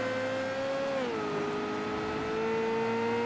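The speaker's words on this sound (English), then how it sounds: "That was the engine." A car engine in a 1960s-era crime action game drones steadily in a sustained close hum, its pitch dipping once and then holding level, with no voices.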